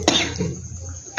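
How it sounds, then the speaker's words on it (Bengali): A single short, sharp cough from someone with a cold bursts out close up at the start, followed by quiet breathy noise. "কাশি হয়েছে দেখো"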